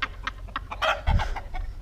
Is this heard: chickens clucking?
yes